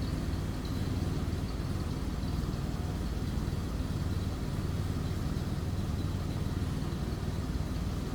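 A 1936 Oldsmobile F36 touring sedan's engine runs at a steady idle, quiet and smooth, with a low even hum that stays constant and unbroken throughout.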